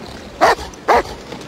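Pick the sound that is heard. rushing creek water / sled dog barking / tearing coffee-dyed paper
sled dog barking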